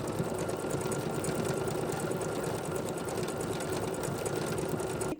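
A sewing machine runs steadily, stitching a decorative collage applique on a holiday postcard with a mirrored stitch; the close, even mechanical whir continues unbroken throughout, with no talking.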